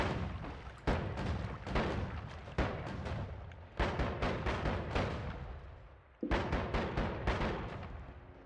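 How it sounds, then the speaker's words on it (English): Noita explosions go off in a rapid chain of sharp booming blasts, roughly a dozen bursts each decaying quickly, with a short lull before a fresh cluster of loud detonations. "Explosions."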